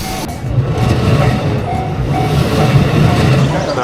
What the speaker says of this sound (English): Iconic Japanese train crossing about to happen.